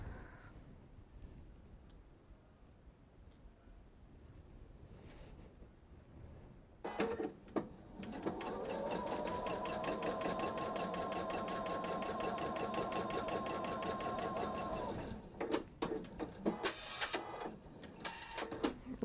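A sewing machine runs in one long steady whir while pieces are stitched onto a fabric bench pillow, framed by shorter handling clatters and brief bursts before and after, with no talk.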